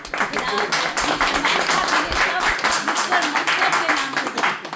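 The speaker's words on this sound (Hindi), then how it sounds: "आइए पुरजोर तालियों से इस्तकबाल करते हैं" A dense wash of clapping from an audience at a certificate distribution ceremony, steady and continuous throughout, with voices mixed in beneath it.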